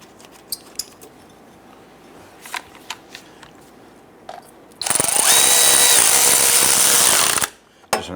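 A power tool tightens exhaust support bracket bolts on a 2011-2021 Jeep Grand Cherokee 3.6L V6, a loud close whir lasting a few seconds after light clicks and taps.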